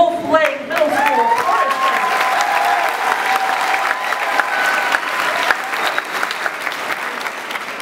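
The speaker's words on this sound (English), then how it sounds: "A big round of applause for the Wolf Lake Middle School" A middle school concert audience claps steadily for the Wolf Lake Middle School chorus, dense sustained applause filling the hall with a few whoops and a held tone at the start.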